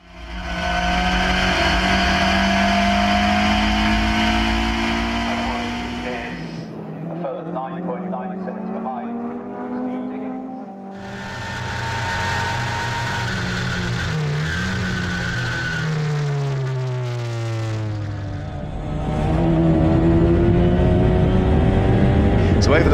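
Clubmans sports prototype race cars at Snetterton scream past, engines rising and falling in pitch as they rev through the gears and pass by, loud and continuous with a commentator talking over them.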